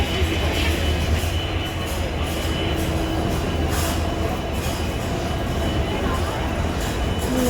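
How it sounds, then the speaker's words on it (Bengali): Howrah railway station around half past midnight fills the air with a dense, steady rumble of trains and crowd noise, with a voice talking over the din. "হাওড়া স্টেশনটা এখন একটু দেখিয়ে দিচ্ছি"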